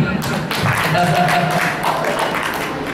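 An audience at a meditation camp claps in a short burst of hand claps close by, with voices talking over it.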